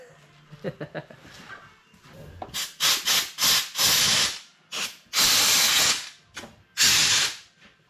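Tools work the spark plugs loose on a 1972 AMC Javelin parked for 52 years, a run of sharp ratcheting bursts and hissy scraping strokes, close and loud, following a few softer clicks at the start.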